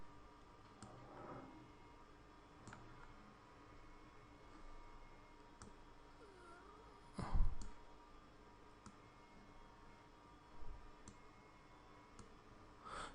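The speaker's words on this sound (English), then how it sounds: "hit P on my keyboard." Faint, sparse key clicks from a computer keyboard in a quiet room, isolated taps spread across the stretch with a slightly louder thump in the middle and another near the end.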